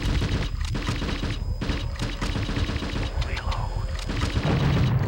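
A hover tank fires in the Judge Dredd video game, a run of sharp, repeated blasts in irregular bursts over a dense, steady background of game noise.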